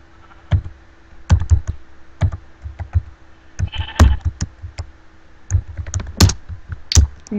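Minecraft sheep bleat repeatedly in short, sharp cries spread irregularly over several seconds. Crisp keyboard and mouse clicks are mixed in throughout.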